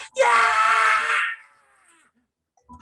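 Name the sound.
voice imitating a high-pitched scream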